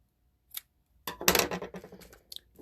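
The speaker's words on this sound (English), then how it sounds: "it's just a little bit bigger than I want, so I'm going to trim it down a little bit here" Scissors snip through a cardstock tag for a Stampin' Up! card, one small cut followed by a longer burst of close, crisp trimming and a few final snips.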